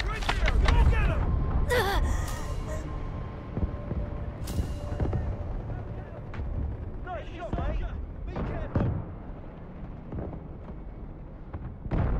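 Artillery fire in a Battlefield game booms in heavy, scattered blasts, loudest at the start and then recurring at intervals with sharp cracks and rumbling tails, under occasional game voice lines.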